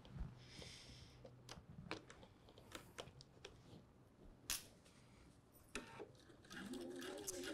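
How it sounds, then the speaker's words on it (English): A sewing machine stitches zipper tape on a fly front in short, faint bursts of rapid mechanical whirring, with quiet pauses and some soft handling noise between runs. "we're gonna sew in a straight line all the way down"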